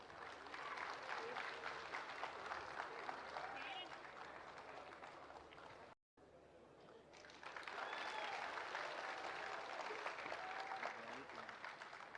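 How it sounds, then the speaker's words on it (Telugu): Sustained applause from a large crowd at a solar project inauguration with a government minister, a dense wash of clapping that drops out briefly before swelling again, with a voice speaking over it. "A huge round of applause."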